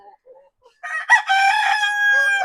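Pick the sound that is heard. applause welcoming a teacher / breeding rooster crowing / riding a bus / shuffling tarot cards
breeding rooster crowing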